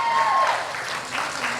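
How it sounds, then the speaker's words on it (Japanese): Applause rises for guests from Toyota at a gathering, a short burst of crowd clapping with a faint tone drifting through the opening moment. "みんな拍手しようよ"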